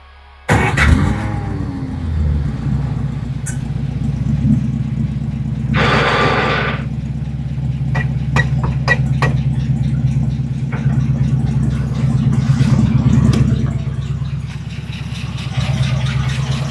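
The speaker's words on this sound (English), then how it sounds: "Sounds like the throwout bearing isn't exactly all that happy." A 1941 Buick engine cranks and catches, then settles into a steady low idle with the clutch pressed, broken by a brief hiss and several sharp ticks and clicks.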